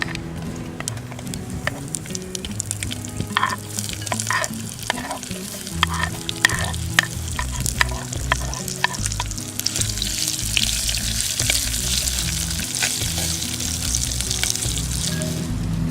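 Onions, chili and garlic frying in a hot pan, a steady sizzle with stirring scrapes and occasional clinks, building in intensity partway through, with no talking.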